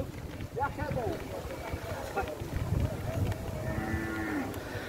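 Dairy cows mooing at a livestock fair in São Benedito, Ceará, Brazil; several low moos and bellows rise over a steady crowd murmur and background chatter, with people talking throughout.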